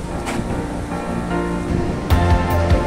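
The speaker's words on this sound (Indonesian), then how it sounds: "Biasanya ombaknya gede gini nggak" Ocean surf at Drini beach in Gunungkidul, Yogyakarta, a steady wash of waves with wind rumble and a few louder surges, no talking.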